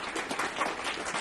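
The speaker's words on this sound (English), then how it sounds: "Round of applause for Kevin." Applause from an audience at an investment management market presentation, a steady dense patter of clapping, faint and brief.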